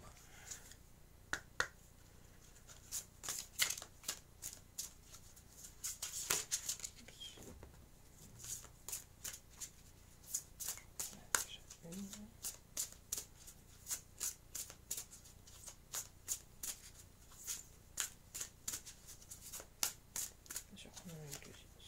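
Oracle cards from a high-vibration deck being shuffled by hand, a long series of crisp riffling snaps in irregular bursts, close and fairly quiet, with a voice talking faintly at times.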